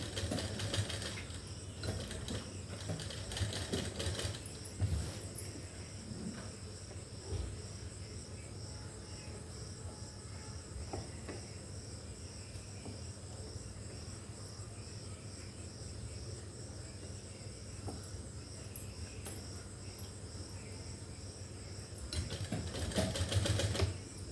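A sewing machine stitches a shirt during a fitting, running in a steady, continuous whir with a fine rapid clatter, fairly quiet and close, briefly louder near the start and end, with no voices.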